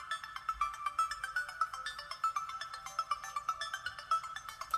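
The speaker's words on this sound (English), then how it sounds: "This is what it sounds like playing a song I've listened to countless times on full blast" A tinny, thin song plays at full volume through the small built-in speaker of a 2014 Lenovo ThinkCentre M73 Tiny desktop PC, its melody buzzing and lacking any bass.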